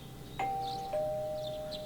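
A two-tone doorbell chime from Persona 4 Golden rings out twice, each clear ding sustaining and slowly fading, with a quiet background underneath.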